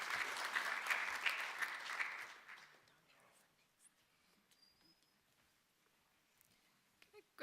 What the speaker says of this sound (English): Let's give a hand of applause as she comes.